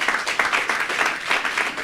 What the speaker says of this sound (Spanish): Aplauso para el músico Nan